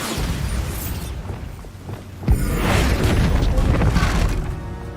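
A Bombarda spell is cast in the game Hogwarts Legacy, setting off a sharp boom midway followed by a rumbling, crackling blast over a continuous background of game noise.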